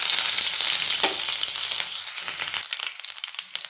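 Crushed garlic and ginger frying in hot oil in a pan for vegetable samosa filling, a loud close sizzle with stirring that drops off abruptly near the end.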